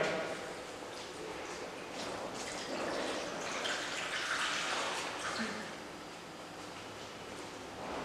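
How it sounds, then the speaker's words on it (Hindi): Water is poured into a double boiler holding molds of caramel custard before baking, producing a soft, steady splashing pour that lasts several seconds and stays fairly quiet. "इस डबल बॉयलर में हम पानी डालेंगे।"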